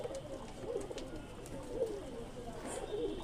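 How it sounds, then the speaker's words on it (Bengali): Pigeons coo softly in repeated low, throaty phrases, a few close-by rounds recurring every second or so over a steady faint background hum, with no one speaking. "আপনাদের কাছে পায়রার ভিডিও দেখাচ্ছি।"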